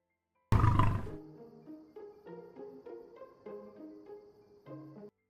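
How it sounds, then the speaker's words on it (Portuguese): A lion gives one loud, close roar that fades, followed by a steady chorus of chirping crickets and insects in the background. "De repente, um rugido ecoa,"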